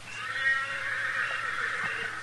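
A faint, drawn-out horse whinny carries from far away, thin and wavering over a quiet outdoor hush, in an old-time radio western.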